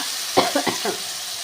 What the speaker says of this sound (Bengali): সর্ষে লঙ্কা বাটাটা দিয়ে দিলাম